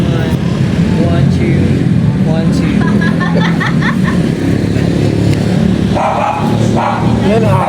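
A dog barks several times amid busy outdoor noise, with passing engines and people talking in the background.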